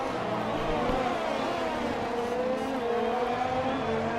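Formula 1 car engine in F1 2020, a continuous high-pitched whine with rising and falling pitch as the car accelerates and shifts, steady and loud throughout.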